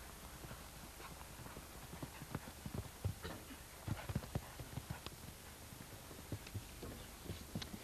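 Horse hooves pound in a rapid galloping rhythm around a show jumping course, a string of sharp thuds at moderate distance with no voices.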